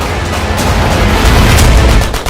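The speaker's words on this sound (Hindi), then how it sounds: "फिर दनादन गोलियां चलने की आवाज आने लगी" Dense rapid gunfire as a sound effect, a loud continuous barrage of overlapping booming shots with no pauses, close and heavy across the whole stretch.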